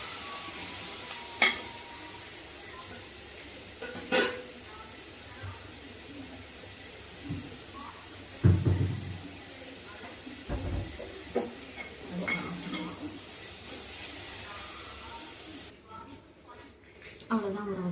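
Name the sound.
capsicum frying with garlic and cumin in pan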